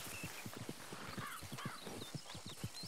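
Horse hooves clip-clop at a quick, even gait in the Red Dead Redemption 2 video game, with a brief whinny and soft game ambience behind, no talk.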